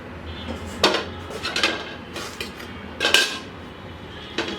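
Homemade shahi naan being lifted onto a plate, a few close clattering knocks of plate and utensil against each other, spaced irregularly with soft rustling between.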